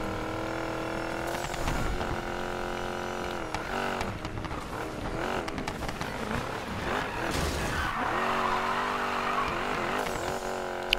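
Off-road car drifting in Need for Speed Payback, engine revving loud and continuous with tyre squeal and skidding across sliding passes, game music or effects layered underneath.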